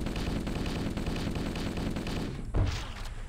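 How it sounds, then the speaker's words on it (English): Rapid automatic assault rifle fire from the Halo CE Digsite mod runs as a steady, dense stream of shots, capped by a louder thump near the end. "Okay, this is another assault rifle."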